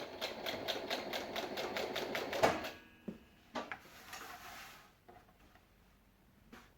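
A sewing machine double stitches a lined box zipper pouch, buzzing quietly for a couple of seconds before stopping, followed by faint clicks and light handling sounds.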